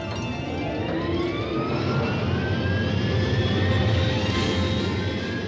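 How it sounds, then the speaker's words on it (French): Submarine turbines spin up in an animated series, a loud, steady mechanical roar with rising whining tones sweeping upward over a deep rumble, sustained without speech. "Mais rien, ce sont les turbines."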